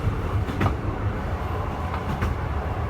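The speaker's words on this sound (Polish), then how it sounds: "Jedziemy sobie TLK Zamojskim." A TLK Zamoyski passenger train heard from on board, a steady low rumble of wheels on rails with faint rhythmic clicks of the joints passing underneath.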